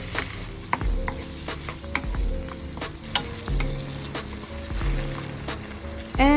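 Garlic, onion and tomatoes sautéing in hot oil in a pan for milkfish sarciado, a steady close sizzle broken by spatula scrapes and taps, with a sharp clatter at the end.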